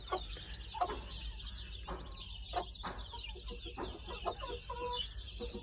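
Aseel chickens cluck and chatter in a quiet coop, with soft, irregular clucks and brief squawks scattered over faint low background hum.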